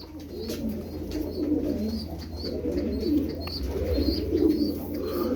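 Turkish tumbler pigeons, kept as play birds, coo in low, throaty, rolling phrases that repeat steadily throughout, fairly close, over faint background noise.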